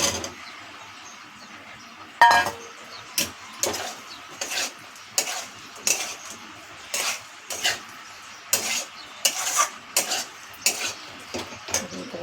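Fried pumpkin is stirred in a pan with soaked chickpeas and grated coconut, with a spoon scraping and clinking against the metal in repeated short strokes over a faint background hiss, close and fairly quiet, with no talk.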